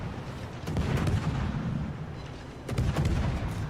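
Warship naval guns fire in World of Warships: two heavy, rumbling booms a couple of seconds apart, loud and close, over a dense, roaring battle background.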